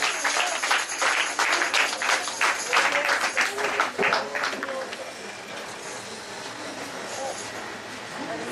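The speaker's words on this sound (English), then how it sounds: "Please clap your hands and make them welcome at this time." A funeral service congregation claps hands in welcome, a dense rhythmic patter of many hands for several seconds that gradually thins and softens under a faint background murmur.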